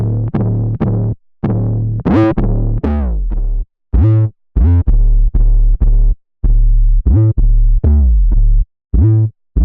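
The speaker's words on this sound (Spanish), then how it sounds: "Es una emulación de un pedal analógico llamado 808 Overdrive, que he estado probando con 808 de forma paralela usando el Audioeffect Rack." An 808 bass runs through an emulated analog 808 Overdrive distortion pedal plugin, producing loud, gritty, punchy sustained bass notes in a rhythmic pattern with short gaps between hits, heard alone without any voices.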